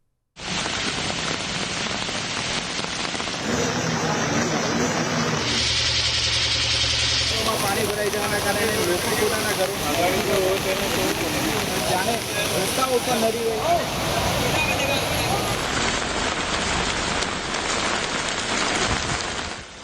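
Heavy rain in flood-hit Gujarat pours as a dense, steady hiss throughout, with an engine idling and rumbling underneath and flood water churning, the downpour staying loud and unbroken to the end.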